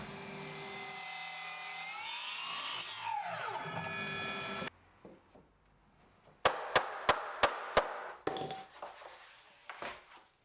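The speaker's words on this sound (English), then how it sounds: "find the angle on the miter saw and cut them at a nice tight fit" A miter saw whines loudly as it cuts a wet timber brace for a driveway gate, its pitch sliding down as the blade spins down, followed by a quiet pause and then a quick run of sharp knocks and clatter.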